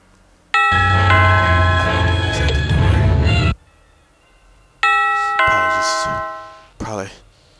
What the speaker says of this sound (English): Somebody's ringing the doorbell.